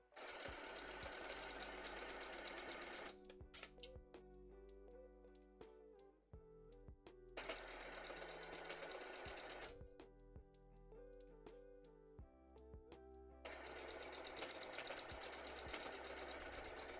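Sewing machine top stitching details on a cosplay costume, running in three long loud bursts separated by quieter pauses with faint handling clatter.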